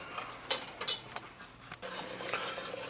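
Spoon scraping and clinking through a flour roux cooking in a pan, with a few sharp metallic knocks early on and a soft continuous stir and sizzle close by.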